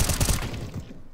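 Dense burst of gunfire in an online shooter game, rapid overlapping shots loud and close for the first part, then thinning out into a quieter rattle as the barrage fades.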